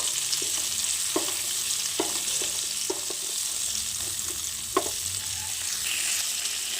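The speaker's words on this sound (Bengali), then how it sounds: "চিংড়ি মাছগুলো এক সাইড ভাজা হয়ে গেছে আমি এবার মাছগুলোকে উল্টিয়ে দেব" Prawns sizzle steadily as they fry in a pan, a continuous crackle broken by several light scrapes and taps of a spatula, close and clear, with no voices.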